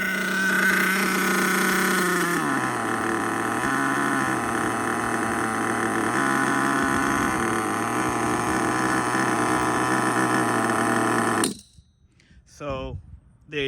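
A nitro engine in an HPI Savage GTXL-6 RC monster truck, run on its first tank during break-in, drones loud and steady with a high buzzy whine, shifting pitch slightly, then cuts out abruptly near the end.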